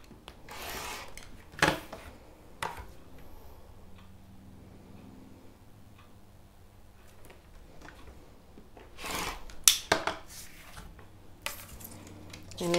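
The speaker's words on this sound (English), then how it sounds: "I'm going to cut the top edge off these two pieces" Scissors trim the top edge off paper sewing pattern pieces, giving a few faint, brief snips and rustles spread across a quiet stretch with light handling noise.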